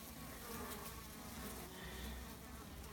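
A dense, steady buzzing of many honey bees swarming around wooden hive boxes, each holding thousands of bees, continuous and close throughout with no voices.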